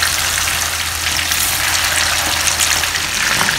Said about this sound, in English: heat up oil and put the meatball in gently